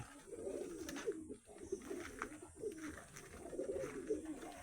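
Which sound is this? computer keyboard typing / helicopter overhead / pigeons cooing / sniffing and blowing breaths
pigeons cooing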